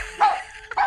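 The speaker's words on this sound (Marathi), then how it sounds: "अरे त्या कुत्र्याचा आवाज बंद कर ना" Two quick dog barks, a short gap between them, sounding slightly thin and muffled as if over a phone.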